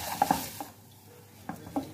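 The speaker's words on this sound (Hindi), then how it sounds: "आलू डाल देंगे। अच्छी तरह से मिक्स कर लेंगे।" Boiled potatoes are stirred into masala in a pan for aloo paratha filling. A few close, sharp scraping clicks from the spoon come in short bursts around a quieter gap.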